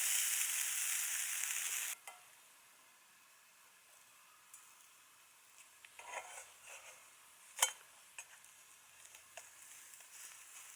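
Pancake batter sizzles in oil in a pan at a campsite, a loud hiss for the first two seconds, then a faint simmer with occasional scrapes and clicks of a spatula against the pan.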